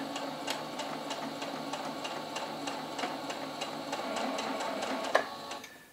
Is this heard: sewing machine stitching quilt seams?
yes